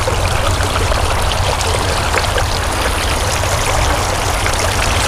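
Steady rushing trickle of water spilling off stacked rocks of a pondless waterfall, close and continuous with no pauses, no voices over it.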